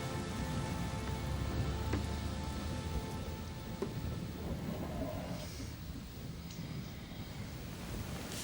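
Steady, heavy rain falls continuously with a dense hiss, and faint rumbling thunder sits underneath, with no voices.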